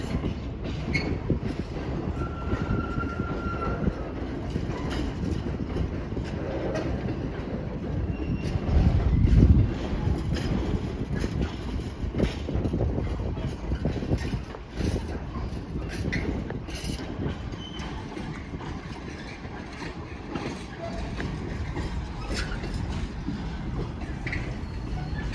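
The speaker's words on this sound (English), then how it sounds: "coming in on the fast line on platform number 1 is going to be, I believe, a delay 1304 Great Western Railway service to Weston-super-Mare" A Great Western Railway train on the Great Western Main Line at Didcot rumbles steadily with clattering wheels and squeals from platform level, the low roar continuing throughout.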